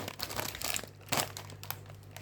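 A plastic bag of candies crinkles and rustles close by in steady handling noise, with a sharper crackling burst near the middle. No one talks during the clip.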